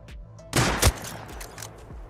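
Gunfire in the survival game Rust on console: two sharp, close gunshots about a third of a second apart, near and loud, with no talking.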